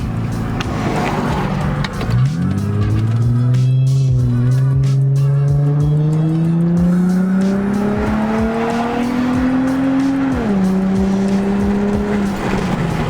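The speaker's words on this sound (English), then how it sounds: "I can't believe that's my car." An Infiniti G35's loud, raspy exhaust with the muffler deleted drones steadily as the engine pulls through a long rising rev, dipping briefly before climbing again.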